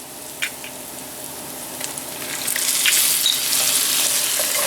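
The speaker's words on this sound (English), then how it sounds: "Now we're gonna add some of the rose water." Rose water poured into a hot pan of shrimp risotto after the alcohol cooks off: a faint splash, then a hiss and sizzle that grows louder and stays steady, with no talking.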